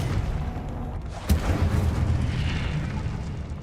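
A fiery spell is cast in Hogwarts Legacy with a sharp burst and a rumbling whoosh of flame, followed by a broad roar that fades slowly under game noise.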